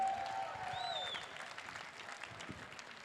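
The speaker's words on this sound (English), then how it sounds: "One more time, a nice round of applause for Kahiao Lam Ho" Audience applause at a Hawaiian slack key guitar festival, a steady round of clapping that starts fuller and eases slightly, with a brief whistle-like tone near the start.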